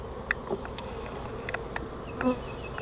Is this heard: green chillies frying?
no